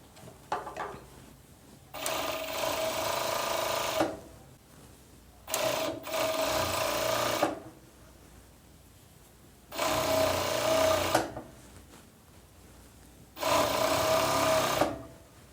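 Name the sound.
sewing machine attaching elastic to a pajama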